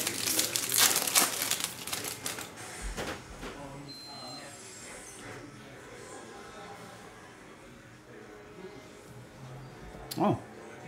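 A Prizm NBA hobby trading card pack is torn open up close, loud crinkling foil rips in the opening seconds, then quieter handling and a sharp crackle near the end while someone talks throughout.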